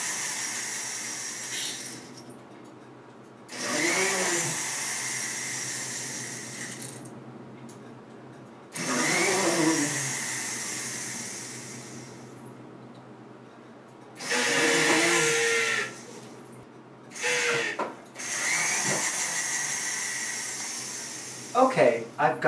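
An electric drill boring holes through copper washers for hammer-textured drop earrings comes in several separate bursts of a steady whining hiss a few seconds each, with quiet gaps between them, close and moderately loud.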